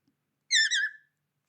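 A pet bird gives a single short, bright chirp in an otherwise silent room. The call is brief and fairly quiet.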